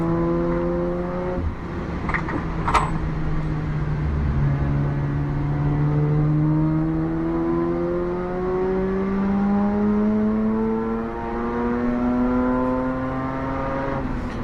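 Race car engine in a racing video game, worsening vibration: a steady, buzzing engine drone with rising and falling pitch as it accelerates, heard alone with no talking.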